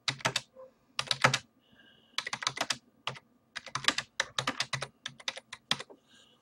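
Quick bursts of clicking keys on a computer keyboard as a website name is typed, clustered into short rapid runs separated by brief pauses, close and clear with no talking.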